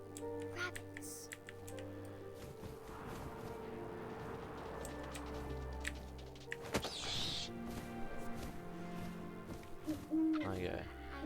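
An owl hoots in the video game What Remains of Edith Finch, a few soft calls sounding over steady wind-like ambience and light clicking, fairly quiet and set back in the mix.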